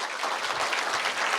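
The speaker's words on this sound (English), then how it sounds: "Let's welcome them with a huge round of applause once again" Applause welcomes dignitaries on the dais at an Engineers Day event, a brief wash of dense, even clapping from a large audience at moderate volume.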